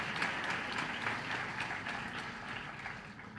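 A crowd claps steadily at a Republic Day celebration at a university in Haridwar, a continuous, fairly distant wash of applause with little talk over it.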